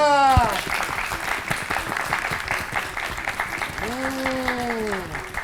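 Applause for a correct quiz answer in a children's fun-learning class, steady broadband clapping from a group throughout, with a short tonal voice or sound at the start and another near the end.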